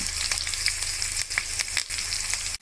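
Chicken fry ingredients with green chillies and mint crackle and sizzle in a pan while being mixed, with sharp spatter pops and utensil scrapes and a knock at the end.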